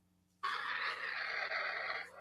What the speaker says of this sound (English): No, it was a rocket launch. That was a rocket launch.